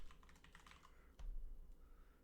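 Quick bursts of typing on a computer keyboard, close and fairly quiet, a rapid patter of key clicks followed by a soft thump and a pause, with no talking.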